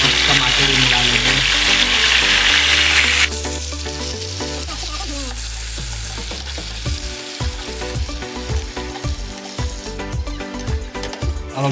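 Fenugreek seeds, onion and tomato frying in hot oil for a fish curry masala: a loud, steady sizzle that drops in intensity partway as ingredients go in, followed by stirring and scraping clatter.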